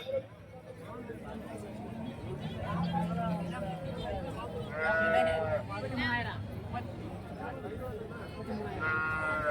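Cattle low and moo amid a busy outdoor livestock market in Karimangalam, Tamil Nadu, with people talking nearby and other animals calling intermittently throughout.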